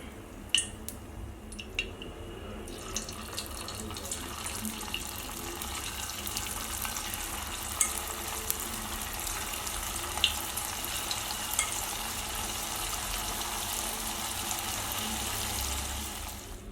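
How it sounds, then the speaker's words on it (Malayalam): Cauliflower pieces deep frying in oil for a crispy street-style fry, giving a steady, continuous sizzling hiss with a few sharper crackles near the start, moderately close and with no voices. "നമുക്കിതുപോലെ ബാക്കിയും ഫ്രൈ ചെയ്തെടുക്കാം"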